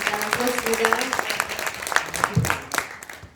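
An audience at a talk show event claps, with scattered, uneven handclaps rising and falling, brief and moderately close, while a voice is heard faintly.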